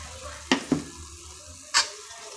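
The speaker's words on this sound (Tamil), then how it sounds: "இதையும் கொஞ்சம் வதக்கி கொடுத்துக்கிடலாம்" Ground tomato sautéed with onions in a pan for a roadside dhaba side dish, giving a steady close sizzle with two quick stirring scrapes early on and another sharp clatter near the end.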